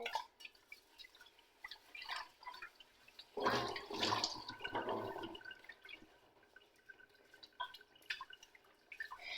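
Soapy cloth being squeezed and swished in water by hand, giving a burst of splashing and dripping in the middle with smaller wet sloshes around it, close and fairly quiet.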